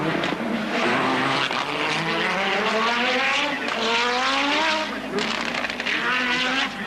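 An Audi Group B rally car with a five-cylinder turbo engine on short gearing at the Race of Champions 1988. It screams through rapid upshifts in rising, rolling revs, loud and close, with a commentator talking over it.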